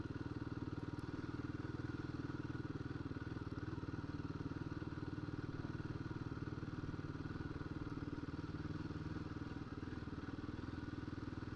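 A Royal Enfield Guerrilla 450 motorcycle engine chugs steadily at low speed in second gear on a country lane, close up and unbroken, with faint rattles and thumps.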